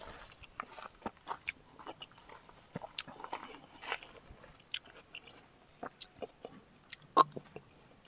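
Someone eats nearby at home, with soft irregular bites, crunches and chewing clicks that are quiet and close, with no talk.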